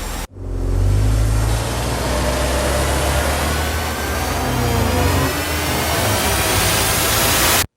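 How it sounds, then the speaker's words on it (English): Engine riser sound effect from the Risenge Pro library by Keepforest, a loud synthetic car engine roar swelling and sustaining with dense noisy texture, starting abruptly and cutting off sharply at the end. "engine risers"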